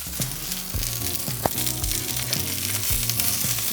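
A steak sears on a hot grill, rotated as it cooks, with a loud, continuous sizzle and crackle, close and alone throughout.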